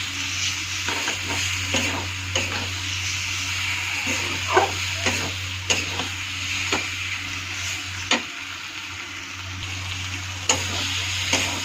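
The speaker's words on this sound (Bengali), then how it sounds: "সামান্য একটু চিনি দিয়ে দিলাম, এখন ভালো করে নেড়ে চেড়ে দেবো।" Spices with a pinch of sugar sizzle in a frying pan while a spoon stirs them, giving a steady close sizzle broken by irregular scraping ticks against the pan, with no talk.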